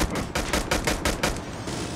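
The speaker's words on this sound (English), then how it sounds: "Friendly sentry gun deployed." Sentry gun in a video game firing a rapid automatic burst of about seven evenly spaced loud shots, each with a sharp crack, over a steady rumbling backdrop.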